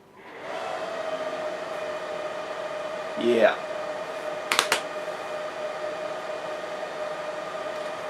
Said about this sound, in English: So here's my noisiest server, right, which I actually use. My HP G3.